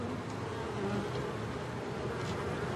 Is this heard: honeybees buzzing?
yes